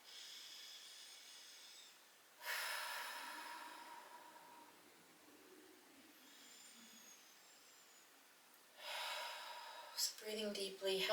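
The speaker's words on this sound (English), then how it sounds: "full, deep breaths in and out" Slow, deep yoga breaths: two long, airy inhale-exhale rushes a few seconds apart, close and clear against a quiet room.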